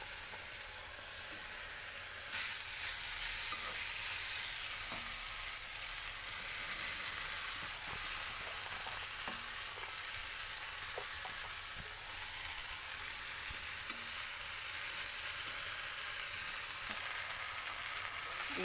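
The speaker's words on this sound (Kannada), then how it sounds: "ಈಗ ಬೆಂಡೆಕಾಯಿ ಹಾಕ್ತೇನೆ." Okra (bhindi) frying in a pan for bendekayi palya, a steady soft sizzle and crackle that runs continuously at low volume, with occasional faint clicks and no talking.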